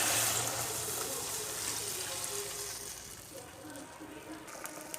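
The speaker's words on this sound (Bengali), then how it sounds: "দিয়ে দেবো জল।" Water is poured into a simmering cauliflower and fish curry with drumstick stems after sautéing. A close, rushing splash is loudest at the start and settles into a softer bubbling hiss.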